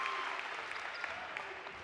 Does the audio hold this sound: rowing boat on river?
no